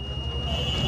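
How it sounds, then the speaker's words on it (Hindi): A multimeter gives a steady, continuous continuity-test beep while probing a coil, heard under a voice. "ये देखिए बीप की आवाज़ आ रही है"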